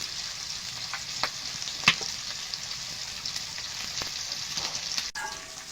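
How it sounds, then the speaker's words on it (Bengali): Scaleless pangas fish frying in oil in a pan, a steady near sizzle with scattered pops and a couple of sharp utensil clicks, no voices. "যখন এই আঁশ ছাড়া মাছ ভাজা করবেন তখন একটু তেল মাখিয়ে নেবেন"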